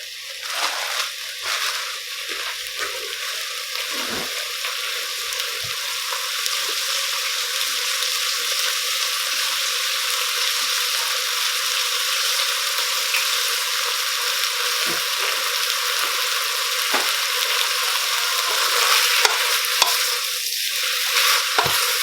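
Sausage frying in a pan, a loud, steady sizzle that runs unbroken for over twenty seconds, with a few brief scrapes and stirs from a utensil scattered through it.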